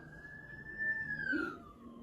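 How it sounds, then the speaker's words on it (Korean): A lone fire engine siren wails faintly from afar, holding a high tone and then sliding downward, with no voices present. "소방차 소리죠?"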